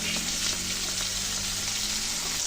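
Koi fish fry in hot oil in a wok, a loud, dense, steady sizzle with faint crackles running throughout, close up and with no talking.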